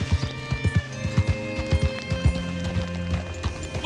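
Horse hooves clip-clop on the ground in the Red Dead Redemption II video game, a quick uneven rhythm of close, loud hoofbeats over a low ambient bed, with a faint whinny.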